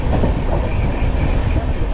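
A fast train in India running on rails, with steady loud rumble and rhythmic clickety-clack of wheels throughout, close and continuous with no talk.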